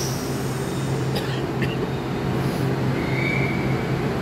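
A train rumbles steadily with a low droning hum and faint metallic squeals, constant and fairly close, with a soft voice in the background.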